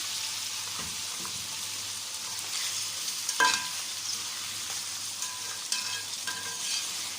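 Chicken karahi with tomatoes and green chilies sizzling steadily in a wok, a constant bright frying hiss with occasional stirring clinks and spatters.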